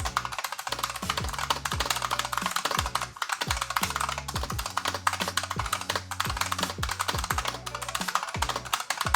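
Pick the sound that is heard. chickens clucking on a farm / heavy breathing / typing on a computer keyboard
typing on a computer keyboard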